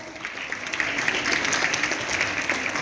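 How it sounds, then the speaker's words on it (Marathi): An audience claps warmly after a child's Marathi poem recital, a short burst of steady, close applause from a small crowd lasting a few seconds. "अस्मीसाठी एकदा जोरदार टाळ्या झाल्या पाहिजे."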